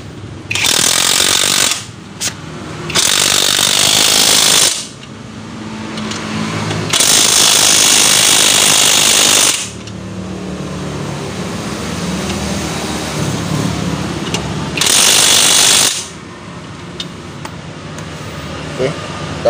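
An ECOSEN DTW-300 impact wrench rattles loudly in four separate bursts as it tightens a bolt, each burst a harsh hammering whirr lasting a few seconds, with quieter gaps between them and speech in the background.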